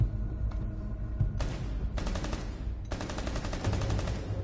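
Rapid automatic gunfire in a ranked tactical shooter video game, three loud close bursts of sharp repeated shots, the later ones longer and sustained, with no talk.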